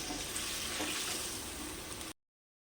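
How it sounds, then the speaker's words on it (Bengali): Water poured from a rinsed bowl into a cooking pot of chicken curry, a steady close splashing rush lasting about two seconds before cutting off abruptly. "বাটি ধুয়ে জল দিচ্ছি"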